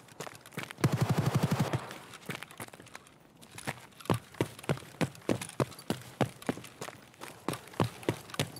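Escape from Tarkov gunfire opens with a fast automatic burst. After a short lull, a long series of single shots follows at an even pace, each one sharp and fairly close.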